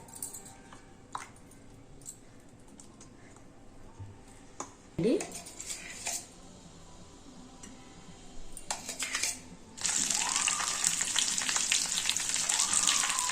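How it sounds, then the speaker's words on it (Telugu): Dry fruits such as almonds and cashews frying in ghee over a low flame for sesame rice payasam, a steady soft sizzle that grows louder and denser toward the end, with occasional utensil clinks. "నెయ్యిలో డ్రై ఫ్రూట్స్ వేసి వేయించాలి"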